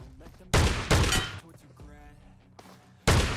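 Loud, heavy gunshots and bursts of fire in a shooting video game come in three sharp blocks, with quieter mechanical clatter between them and a voice speaking underneath.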